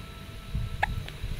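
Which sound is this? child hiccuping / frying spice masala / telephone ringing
child hiccuping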